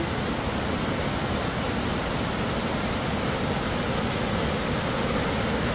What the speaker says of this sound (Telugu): డార్జిలింగ్ వెళ్తుంటే ఒక బ్యూటిఫుల్ వాటర్ ఫాల్స్ అయితే కనిపించింది